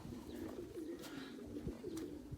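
Pigeons coo in a low, repeated rolling murmur, several calls overlapping close by across a couple of seconds with no talk.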